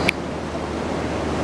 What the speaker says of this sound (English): So these are the rapids of the Richelieu River.